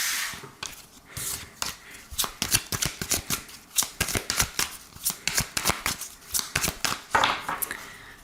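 Tarot cards being shuffled and cut, a steady run of quick riffling slaps and flutters, close and fairly loud, with no talking over them.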